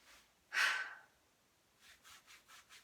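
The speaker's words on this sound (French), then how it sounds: "On frotte, on inspire." During a Qi Gong exercise, one long, deep inhaling breath sounds close and soft, followed by a series of short, rhythmic rubbing or breathing strokes, with no talk.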